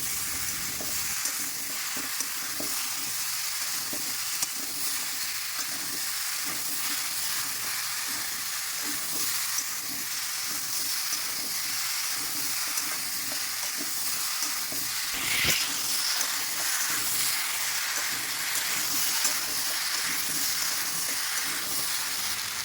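Raw pumpkin pieces frying in a pan for a curry, giving a steady, continuous sizzle and crackle with occasional stirring scrapes throughout, close and even in level, with no talking.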